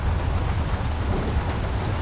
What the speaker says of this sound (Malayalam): ഒന്നിലെ മഴയാണ്, ഫുൾ വെള്ളമായി കിടക്കുവാണ്